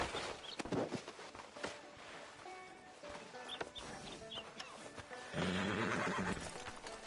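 A horse in a PS4 video game whinnies and snorts amid scattered hoof clatter and faint background birds, with a louder burst of movement near the end.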